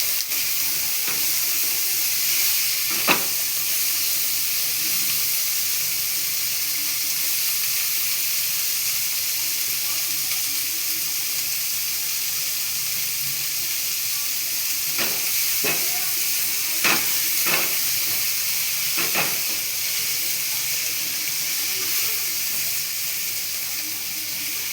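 Chopped tomatoes fry with potatoes in a pan, a steady loud hissing sizzle running throughout, with occasional scraping clicks of a spatula, no talking.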